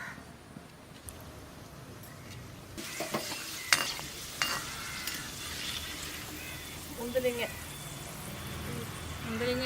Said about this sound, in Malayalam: കശുവണ്ടിയും മുന്തിരിങ്ങയും കൂടെ നമുക്ക് അതും കൂടെ വറുത്തെടുക്കാം